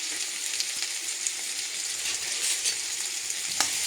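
Whole spices such as cloves, cardamom, cinnamon and dried red chilli frying in oil in a pan, giving a steady, close, even hiss of sizzling with faint occasional ticks and pops.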